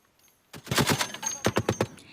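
A rapid burst of loud gunfire from a live-fire military drill at sea off Nangan, Matsu, followed by a second volley of distinct shots in quick rhythm, booming and close in open air.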